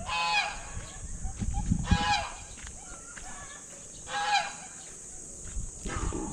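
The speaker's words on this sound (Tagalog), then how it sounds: "Ang daming ibon dito." A flock of geese honks in repeated noisy bursts, close by, with quieter gaps between the outbursts and faint background rustling.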